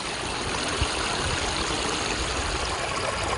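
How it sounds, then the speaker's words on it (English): Angelica Creek flowing beneath a wooden bridge on a sunny autumn day, a steady broadband rush of water heard close and even throughout, with no voices. "Enjoy some of these sights and sounds of Angelica Creek."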